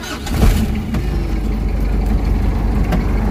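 A car engine cranks briefly and catches, then settles into a steady loud rumbling idle close by; the engine had run short of engine oil.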